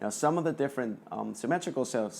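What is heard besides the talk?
No everyday noises stand out.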